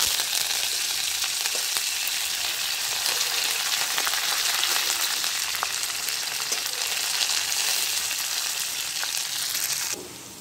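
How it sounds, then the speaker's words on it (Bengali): Mustard seeds and curry leaves sizzle steadily in hot oil for a Bengali radish dish, a loud, dense frying hiss that holds evenly throughout and drops slightly at the very end, with no talking. "এর মধ্যে এখন দিয়ে দেবো কারি পাতা ফোড়ন"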